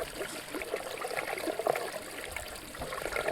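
Water poured from a bottle into someone's mouth outdoors at a farm field, a faint steady trickling and splashing that continues without a break for a few seconds, with no talking.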